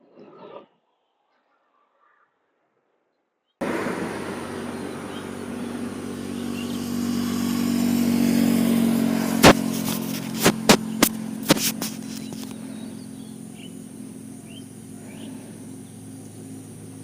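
A motorcycle engine with clogged injectors runs rough and steady after a brief silence, loud and close, with a few sharp clicks or knocks breaking through the drone; no one speaks.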